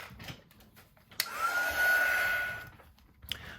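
A hair dryer dries a watercolor painting, clicking on with a sudden loud blowing whoosh and steady whine for about a second and a half before switching off, alone and close.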